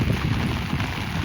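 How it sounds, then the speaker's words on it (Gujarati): Rain falls steadily on a rooftop terrace overlooking farm fields in Una taluka, a continuous close wash of drizzle with no voices. "ધાબા ઉપરથી વરસાદની મોજ માણીએ."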